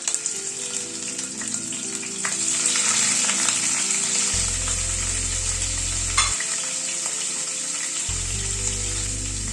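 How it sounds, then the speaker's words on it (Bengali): Paneer frying in oil in a pan for a mixed vegetable dish, a steady bright sizzle with occasional stirring scrapes, close and continuous under a low background hum, no talking. "ওই তেলে পনিরটাকে একটু ভেজে নিচ্ছি।"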